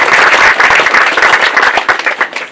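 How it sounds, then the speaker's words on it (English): An audience at a Covid-19 memorial dedication at a cemetery breaks into loud, dense applause, many hands clapping close together with no talk over it. "I think we should clap for that."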